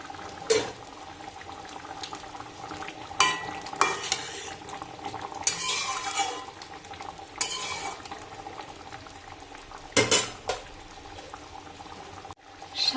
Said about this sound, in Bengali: তরকারিটা ফুটে গেছে।